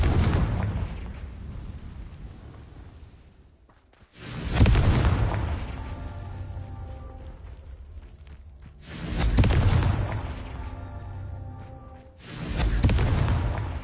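Repeated Confringo fire-spell explosions in the Hogwarts Legacy video game: three loud booming blasts spaced a few seconds apart, each with a rumbling low tail, over a continuous game background with no speech.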